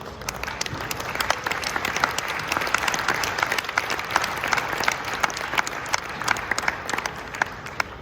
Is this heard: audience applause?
yes